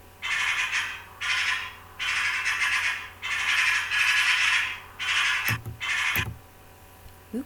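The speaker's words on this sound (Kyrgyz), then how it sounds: "Сагызгандын добушун угалык." A magpie gives harsh chattering calls in six rattling bursts of dry, noisy notes in an uneven rhythm, loud and close, followed by a couple of sharp clicks.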